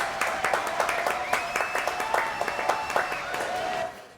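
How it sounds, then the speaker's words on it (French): A French TV studio audience applauds Brigitte with steady, rhythmic clapping at moderate volume that trails off at the end. "Applaudissements pour Brigitte"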